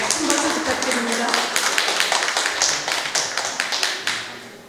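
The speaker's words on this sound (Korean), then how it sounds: "우리 장기덕 교수님이 감사드립니다. 큰 박수 부탁드립니다" A seminar audience at a Busan tea culture festival forum applauds for Professor Jang Ki-deok: steady, dense clapping from many hands throughout, moderately loud and tapering slightly toward the end.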